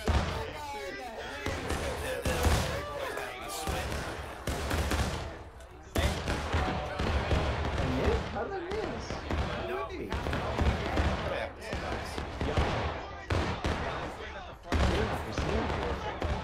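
Musket fire rolls through a War of Rights battle as independent firing breaks out, a dense, continuous crackle of overlapping shots near and far across the full stretch, with voices talking over it.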